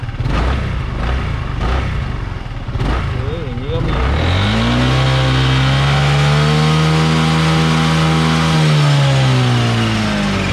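A Honda Forza 300 scooter engine is started and revved, rising into a steady loud droning hum that holds and then eases, close by, with a voice speaking over the start.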